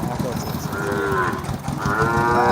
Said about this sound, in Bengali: এই দেখেন এই যে বড় গরু চলে আসছে